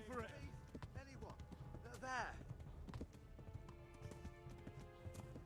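Galloping hooves pound along in Kingdom Come: Deliverance, a medieval role-playing game, the rhythmic clip-clop running beneath speech and a couple of horse whinnies in the first half.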